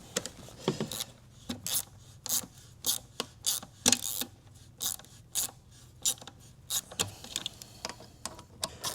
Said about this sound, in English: I'm using a 1/4-inch ratchet